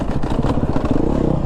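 A 2022 Beta enduro motorcycle engine runs steadily up close, a smooth, even low drone with slight rhythmic pulsing and some mechanical clatter throughout, with no talk over it.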